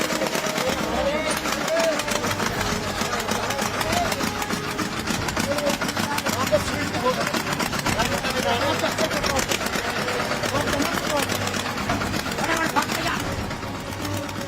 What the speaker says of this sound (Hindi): खतरनाक मोड़ पर टर्न लेता ट्रैक्टर